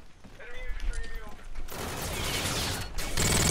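Video game gunfire erupts as a steady, dense rattle of automatic shots after a brief mechanical clicking start, with a voice faintly present early on.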